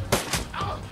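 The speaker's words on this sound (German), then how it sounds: "Das war ein schöner Schuss." A single aimed gunshot in the turn-based game Shadowrun Returns cracks out sharply, with a quick second burst right behind it and a short tail. No one speaks.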